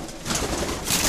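Pigeons coo close by in a breeding loft, a short burst of soft throaty calls over a breathy, rustling background.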